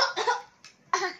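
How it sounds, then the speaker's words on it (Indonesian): A few quick, close coughs in succession: two harsh bursts, a brief softer one, then another strong cough. "Batuk."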